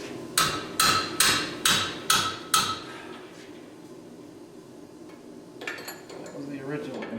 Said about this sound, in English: That was the original impact wrench.